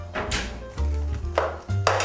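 A knife chopping bell pepper on a cutting board in a family home kitchen, a few sharp cuts spaced irregularly over a background of low hum and kitchen clatter.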